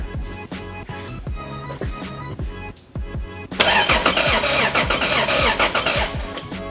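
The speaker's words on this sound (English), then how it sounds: "It freaking cranks, dude." The Zupra car engine cranks over on its first start, a close, loud rhythmic whirring of the starter that surges into a rough, roaring catch partway through before sputtering on.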